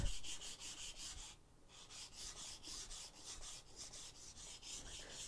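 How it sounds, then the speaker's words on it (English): A knife blade is drawn over a sharpening stone in steady, regular rasping strokes, roughly two per second, with a short pause early on. The sound is close and fairly quiet. "So it's the way I prefer to sharpen a knife and get a really good edge if I'm not doing like bulk sharpening."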